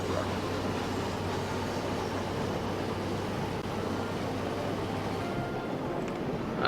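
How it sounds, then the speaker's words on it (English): An express train rolling along in the simulation game Chris Sawyer's Locomotion, heard as a steady, even rumble with a low droning hum underneath, continuous throughout and with no one talking. "You're supposed to be an express train, I have heard."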